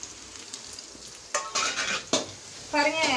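Curry leaves and green chillies hit hot oil with onions for a Chettinad crab gravy, with a quiet sizzle broken by three sudden loud bursts of crackling spatter as they go in and are stirred, no voices.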